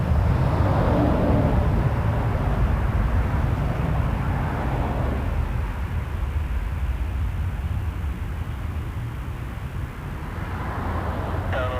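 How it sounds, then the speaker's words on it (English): An Embraer Legacy business jet at Toronto Pearson Airport makes a loud, broad engine roar that fades slightly and then holds steady as it passes at a distance. "Embraer Legacy"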